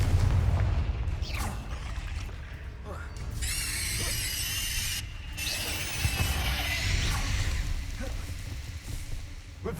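A Confringo blasting spell explodes in Hogwarts Legacy on PS5, with booming blasts and a bright crackling burst amid combat noise, mixed with spoken spell calls and game sounds.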